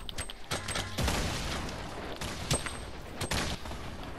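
Bursts of gunfire crack in a Fortnite match, several loud shots in quick succession separated by brief pauses.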